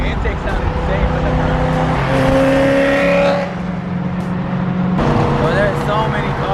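Loud car engine intake roaring and revving under steady throttle at a car meet, with a dip then a fresh surge, with a few voices over the constant mechanical drone.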